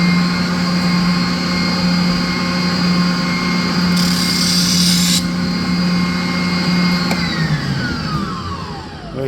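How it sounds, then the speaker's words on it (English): Power grinder working a metal marquee bracket, a loud steady high whine running continuously for several seconds, with a brief harsher burst midway before the tool spins down near the end. "I'm going to grind this bad boy just a tad more"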